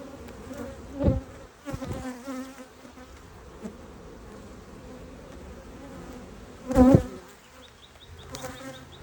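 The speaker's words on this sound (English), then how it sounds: "Lots of young bees running around right now." Bees buzz around up close, a steady droning hum with a few louder passes near the listener.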